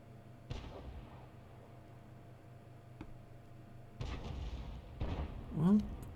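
A tank gun fires in a tank video game, its booming reports arriving as a few separate thuds spaced several seconds apart, moderately loud over a low engine rumble.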